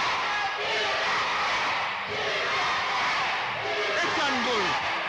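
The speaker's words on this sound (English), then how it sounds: "Listen to this crowd." Roaring wrestling arena crowd at a live pro wrestling event, a dense, continuous wash of cheering and yelling that stays loud throughout, with a commentator's voice audible over it.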